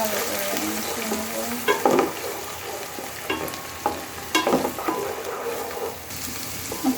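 Garlic, onion and ginger paste fries in hot oil while being stirred, producing a close, busy sizzle broken by several louder scraping strokes of the spoon against the pan.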